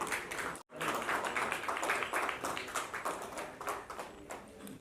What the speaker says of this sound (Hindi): एक बार आप सब स्टैंडिंग ओवेशन और जोरदार तालियों से अनु सर का स्वागत करें